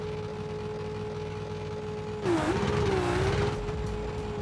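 A racing-game car held on the rev limiter for a drag-strip launch, a steady high engine whine that surges as the car launches, revs climbing and dipping before settling.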